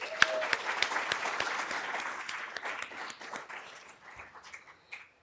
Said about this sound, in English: we're also going to give them a round of applause